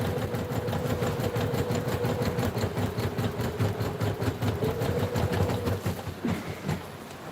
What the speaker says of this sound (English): My mom uses the Brother sewing machine.